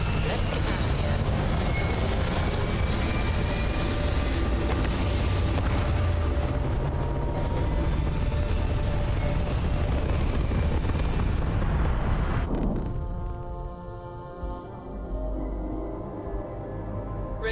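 Spaceship retro thrusters in Starfield fire at takeoff with a loud, continuous roaring blast that swells, then cuts off sharply, leaving a quieter hum with faint tonal engine sounds.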